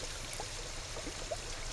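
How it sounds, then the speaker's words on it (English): Water from an aquarium overflow flows down into the middle row of tanks, a faint steady trickle and splash with a few small droplet sounds. "So the water goes and flows down to the middle row."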